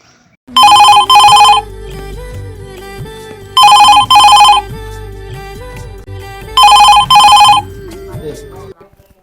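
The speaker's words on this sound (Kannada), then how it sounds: "ಕಮಾಂಡರ್ ಸರ್ ಫೋನ್ ಮಾಡ್ಯಾರ" A telephone rings loud and close in three separate double-ring bursts, each pair of bright electronic trills followed by a pause, with faint background sound between the rings.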